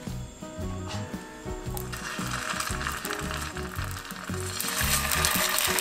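Food fries in an oiled pan over medium-low heat, a steady hissing sizzle that grows louder toward the end beneath a looping musical background.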